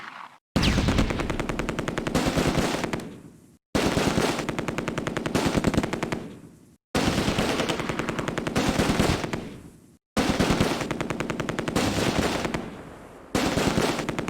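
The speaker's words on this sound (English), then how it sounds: "Let me direct the machine gun team a little bit. Shoot at these guys out in the open." Sustained machine gun bursts from a team firing in the video game Close Combat: A Bridge Too Far, four long loud rattling volleys separated by brief pauses, with no talk over them.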